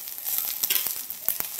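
Cumin seeds sizzling in a little hot oil in a pan: close, steady crackling sizzle with a few sharper pops, no talk.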